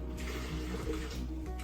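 Boiled water is poured into a blender to rinse it out while cooking jollof rice, making a soft, steady trickling splash close by that continues evenly from start to finish.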